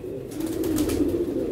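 A dub pigeon cooing up close, one low, steady, throaty coo held for about a second and a half, with no other sound around it.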